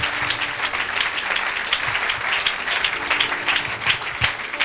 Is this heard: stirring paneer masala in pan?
no